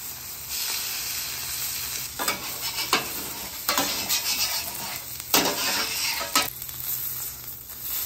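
Garlic butter steak bites sizzle steadily on a flat-top griddle, loud and close, with repeated scraping and stirring strokes of a spatula breaking through the constant frying hiss.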